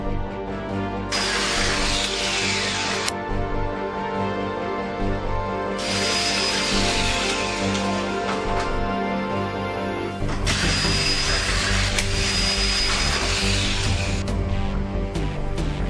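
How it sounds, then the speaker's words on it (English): Power drill boring holes through a template for shelving, three separate whining bursts of a few seconds each with pauses between, loud and close over a steady background hum. "A template is used when drilling the holes for the shelving."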